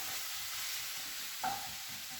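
Chopped tinned tomato cooks in a pan for huevos rancheros with a faint, steady sizzle, broken once by a brief soft clink partway through.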